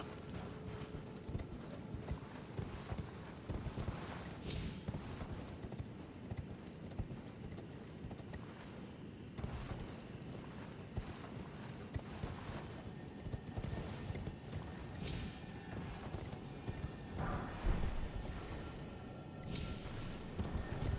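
Rapid hoofbeats of a horse in the game Elden Ring clatter in a steady galloping rhythm, with some thumps and rumbling mixed in, moderately loud and without speech.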